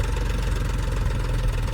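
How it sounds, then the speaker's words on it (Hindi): A tractor engine runs steadily after the trolley has been emptied of soil, giving a continuous, close, low rumble with an even idling throb and no talking. "अब ट्रैक्टर देखो पूरा दब के उठा है"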